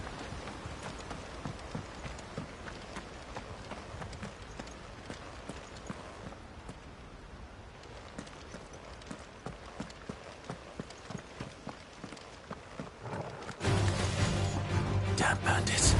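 A horse's hooves clip-clop in steady, rhythmic taps in the Final Fantasy XVI video game. They run under ambient game sound for most of the stretch, then a louder, denser burst of noise takes over near the end.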